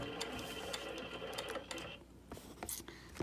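Sewing machine locking down stitches on an appliqué, a brief close burst of rapid mechanical stitching that slows and stops partway through, with no talk.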